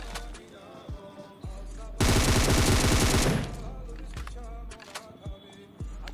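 An enemy player fires on the player in the mobile battle royale game BGMI, a loud burst of rapid automatic gunfire lasting about a second, surrounded by scattered single shots and quieter game sounds.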